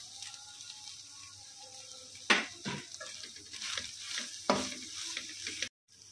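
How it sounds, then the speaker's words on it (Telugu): Crab masala with chili powder fries in a pan with a soft, continuous sizzle, broken by a few sharp stirring scrapes and clatters; fairly quiet overall. "ఒకసారి కలుపుకొని మళ్ళీ వేయించుకుందాము."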